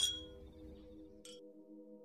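A single light clink of drinking glasses sounds during a toast at a party in a film scene, a short bright chime near the middle, over a quiet sustained musical drone with no speech.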